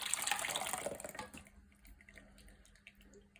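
A warmed mixture of coconut oil and water poured into a bowl for a hot water crust dough for dog treats, a short splashing pour close by that stops after about a second and a half.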